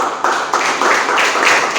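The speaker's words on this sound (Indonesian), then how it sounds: "Tepuk tangan" A classroom of pupils claps for a classmate who read aloud well, several bursts of hand claps coming in quick waves, fairly loud and close, with no talk over them.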